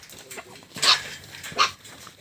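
A large farm dog at a mountain hut barks twice, two sharp, fairly close barks spaced under a second apart, with quiet rustling between them and no talk.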